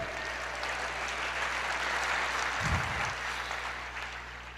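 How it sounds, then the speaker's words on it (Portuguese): Congregation applauding during a church sermon: steady, dense clapping from a large crowd fills the room, with a low hum beneath and a brief thump near the middle. "Aplauda mais e bem"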